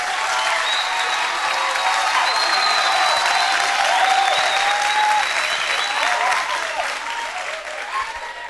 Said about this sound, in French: Il faut les applaudir très fort